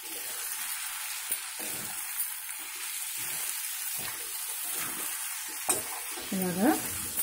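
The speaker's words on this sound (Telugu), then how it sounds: "ఈ కారం వేగింది కదా, వెజ్ అంతా బాగా వేగాయి" Mixed vegetables fry with turmeric, salt and chili powder in a pan, a steady hissing sizzle near and moderately loud, with a few scraping stirs and a brief clatter toward the end, no talk.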